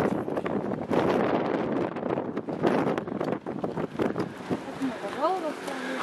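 Strong wind gusts buffet the microphone with a loud, rushing roar at the Castle of the Moors in Sintra, Portugal, and a voice comes in briefly near the end.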